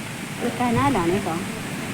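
Water released from a dam rushing through a canal at Pechiparai Dam in Kanyakumari, a steady broadband roar heard throughout, with a voice speaking briefly over it.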